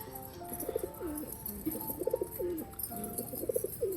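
Soft, repeated coos of domestic pigeons being fed at a house, in short rolling phrases, several birds overlapping against a quiet outdoor background.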